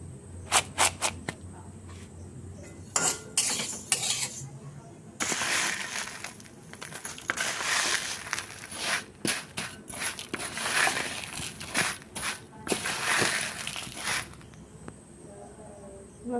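Flattened rice (chira) being dry-fried and stirred in a pan, with scraping, rustling bursts and crisp crackles that come and go in uneven waves, a few sharp clicks at the start.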